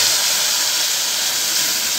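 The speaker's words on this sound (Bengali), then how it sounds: "আলুগুলো লাল করে ভেজে নিয়েছি, এর মধ্যে আমি দিয়ে দেব মশলাগুলো" Soaked spice paste hitting fried potatoes in hot oil for a banana stem dish gives a steady, loud, broadband sizzle that hisses continuously throughout with no talking.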